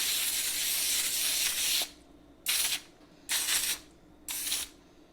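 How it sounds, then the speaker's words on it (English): Olive oil sprayed onto parchment paper: a long continuous hiss followed by three short bursts, close and moderately loud. "So I'm just gonna spray on some olive oil."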